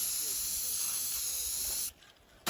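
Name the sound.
spray paint can spraying for hydro-dipping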